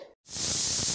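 A pressure cooker on a stove gives a loud, steady hiss of escaping steam, beginning abruptly after a brief gap and continuing without letting up.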